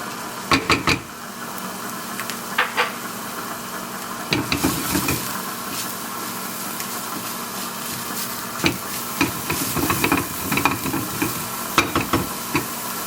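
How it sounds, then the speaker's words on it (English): Shallots sweating in a pan for a cherry duck pâté, giving a low steady sizzle broken by intermittent stirring scrapes and clinks throughout. "try not to brown your shallots when you're working with shallots. Just sweat them."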